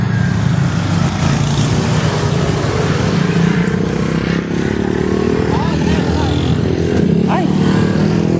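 Engine of a motorized tricycle running steadily from inside the passenger cab, a constant loud rumble with road noise throughout, people talking over it.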